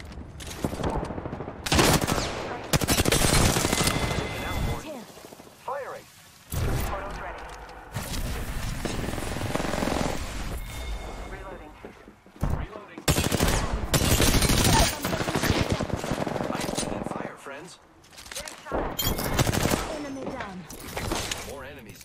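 Repeated bursts of gunfire from enemies in a ranked shooter video game, loud clustered volleys with short gaps between them.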